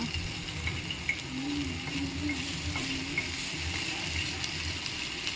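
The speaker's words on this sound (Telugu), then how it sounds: "నేనైతే రెండు వైపులా అలా ఫ్రై చేసుకున్నాను ఫ్రెండ్స్ పన్నీర్ అయితే" Paneer cubes frying in a pan for a paneer roast, a steady low sizzle that carries on without a break, with faint stirring clinks now and then.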